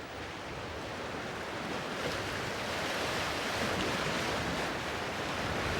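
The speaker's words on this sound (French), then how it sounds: "Le bruit de la mer, c'est envoûtant ici." Steady sea surf rolls against a granite rocky coast at Plougrescant on the Channel, a continuous dense wash of breaking water with no voices.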